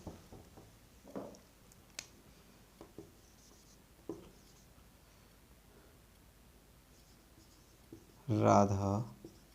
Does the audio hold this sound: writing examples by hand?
yes